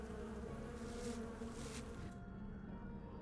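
Steady droning buzz of insects in the horror game Sucker for Love, continuous and fairly loud throughout, with the high hiss dropping away near the end while the low hum carries on.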